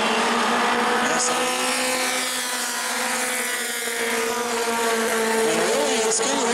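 Modified mini stock race cars circling the track at New Smyrna, a steady engine drone with rising and falling pitch, fairly loud and continuous throughout.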